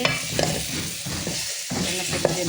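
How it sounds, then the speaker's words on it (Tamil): Cooked rice is stirred into tomato masala frying in oil in a home kitchen, giving steady close sizzling with soft scraping stir strokes throughout. "இப்போ சாதத்தை போட்டு நம்ம கிளறுறோம்."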